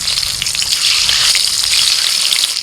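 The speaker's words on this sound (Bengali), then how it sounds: "হালকা করে ভেজে তুলে নিচ্ছি।" Boiled eggs fry in hot oil seasoned with salt and turmeric, giving a loud, steady sizzle with fine crackling that runs without pause from start to end.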